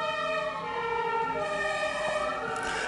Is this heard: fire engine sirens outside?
yes